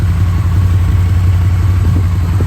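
A four-cylinder engine, repaired after electrical problems, idles steadily and smoothly close up, a loud, even low rumble with no misfires or talking.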